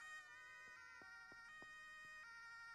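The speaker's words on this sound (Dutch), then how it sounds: "Ik hoor wel een ambulance aanrijden." A wailing ambulance siren in the video game Emergency Hamburg sounds faintly in the distance, its tone rising and falling steadily, alongside a few short clicks and thuds.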